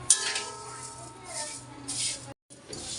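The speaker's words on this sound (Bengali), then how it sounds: "এবার সেমাইটা ভাইজা নেব" Vermicelli frying in ghee in a pan, stirred with a utensil, giving soft sizzling and scraping with light metallic clinks at close range, briefly cut to silence near the end.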